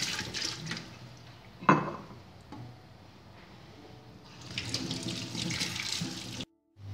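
Baking-soda soaking water pours and drains from a bowl of lemons into a kitchen sink, a steady running, splashing flow with a sharp knock partway through, close and moderately quiet.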